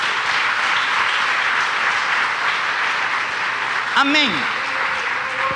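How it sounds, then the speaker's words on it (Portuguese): A church congregation applauds steadily at fairly close range, and near the end a voice briefly calls out over the dense clapping. "Irmão, aplauda."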